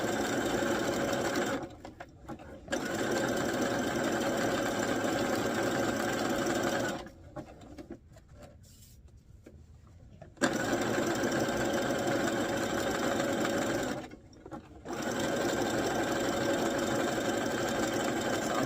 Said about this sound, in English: And I'm using a zigzag stitch. So as I'm sewing, I am pulling at the same time.